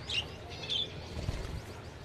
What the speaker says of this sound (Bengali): এইখানে যে পাখিগুলো এগুলো হচ্ছে রেনবো বাজরিকার